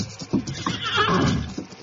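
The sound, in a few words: horse whinnying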